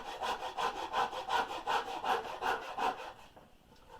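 A rasp made of stacked, bent hacksaw blades shaping a wooden half-hull boat model, close rhythmic rasping strokes, about a dozen even back-and-forth passes before stopping.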